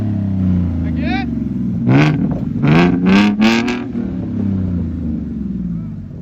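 Loud, close revving from a 2016 Ford Mustang 3.7L V6 with a muffler-deleted dual exhaust: a low idle burble broken by a run of quick throttle blips in the middle, then easing back to idle.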